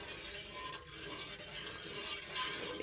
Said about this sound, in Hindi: इसमें चम्मच जो है वो हिलाते रहते हैं आहिस्ता आहिस्ता